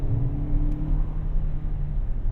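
A 2024 Lexus TX 350 accelerates at full throttle, heard from inside the cabin as a muted, steady low engine rumble with a rising tone early on, otherwise quiet.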